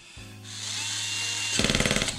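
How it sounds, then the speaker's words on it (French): A power screwdriver drives a screw to fasten an MA1 fixing, a close whir that rises in pitch and ends in a rapid ratcheting burst. "Alors je vais prendre mon tournevis."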